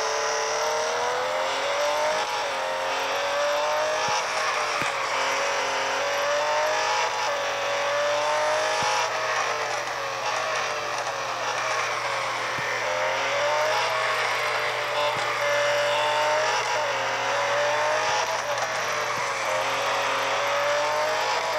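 A Lamborghini Centenario race car engine in a racing video game holds a loud, continuous high-revving drone that rises and falls in pitch as gears shift, with faint mechanical clicks throughout.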